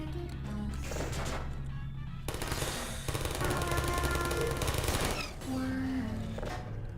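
Turrets fire in the video game Portal in rapid mechanical bursts that come in dense, loud stretches and stop abruptly, over a constant humming game background.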